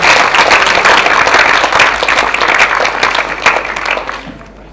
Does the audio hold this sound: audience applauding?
yes